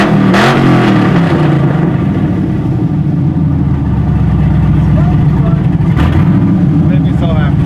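A Harley motorcycle with a 3-inch exhaust and a mild cam revs loudly and steadily through a deep, rumbling run, with a sharper blip near the end and a voice talking over it.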